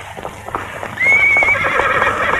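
A horse whinnies loudly and close over the clopping of hooves, with a rhythmic clatter of footfalls leading into a drawn-out neigh.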